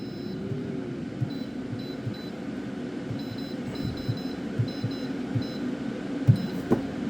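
A kitchen appliance timer being set to 7 minutes at 200 degrees gives a run of short, faint electronic beeps over a low room hum and occasional soft clunks.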